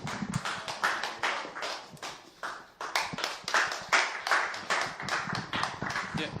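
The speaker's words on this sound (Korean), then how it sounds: "여러분 박수로 맞아주시면 감사하겠습니다" Audience applause in a church mission worship service welcoming a pastor, a rhythmic, fairly close clapping with an even pulse that continues throughout.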